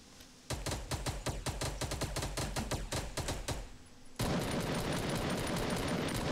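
Rapid gunfire in Fortnite, a fast rhythmic burst of close, loud shots lasting several seconds, then cutting into a dense wash of noise as the game continues.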